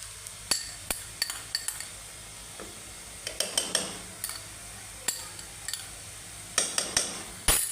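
Onions browning in a pan with freshly added garlic for a potato-and-eggplant curry, stirred with a utensil that clinks and scrapes against the metal in repeated sharp strokes over a soft, steady sizzle.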